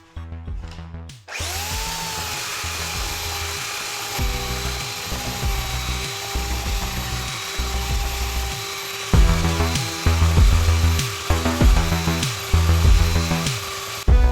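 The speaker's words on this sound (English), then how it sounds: "which is gonna be a lot of sanding, a lot of grinding" A power tool runs loud and close with a high, sustained whine while sanding and grinding a wooden live edge, its pitch steady as the tool repeatedly bites into the wood with rhythmic thumps, with no talk.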